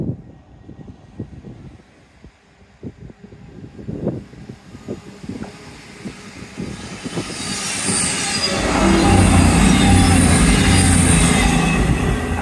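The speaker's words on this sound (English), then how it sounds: "Just think there might be a train coming past first." A train runs along the seawall at Teignmouth, starting with scattered knocks and clatter that build into a loud, close roaring rush with high screeching wheel squeal as it passes.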